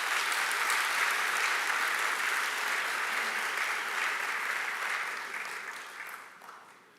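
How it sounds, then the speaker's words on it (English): Business conference audience in Jamaica applauding the Inter-American Development Bank, a dense sustained clapping from a large crowd that holds steady, then fades out toward the end. "Please give a round of applause to the IDB."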